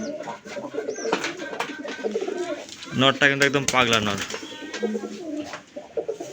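Rajshahi Giribaj pigeons, green-coloured, coo repeatedly close by, their low throaty calls rolling in bursts while someone talks over them.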